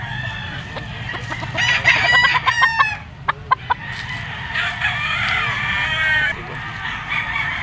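A two-year-old white-legged gamefowl rooster of Boston Sweater bloodline crows repeatedly and clucks close by, with other roosters crowing steadily in the background of a busy outdoor yard.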